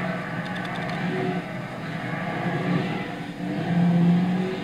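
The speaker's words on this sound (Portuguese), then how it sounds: "Até eu me empolguei com o ronco do V8 aqui." A BMW M3 with a 4-litre 32-valve V8, driven from the interior view in Gran Turismo 6, roars steadily with rising and falling revs, loud and close throughout with no talking.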